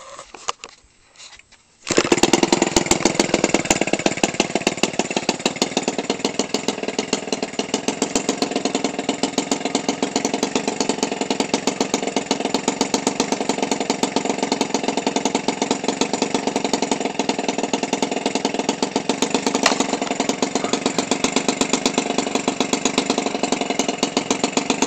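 A Toro 28cc radio control gasoline engine fitted with a homemade aluminum pipe muffler starts up after a brief quiet moment, then idles with a loud, steady buzzing drone that stays even and close for over twenty seconds.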